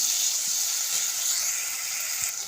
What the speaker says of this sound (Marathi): एक मिनिटभर छान असं व्यवस्थित असं परतून घेऊया मस्त भाज्या अशा मसाले सॉसमध्ये छान अशा परतल्या पाहिजे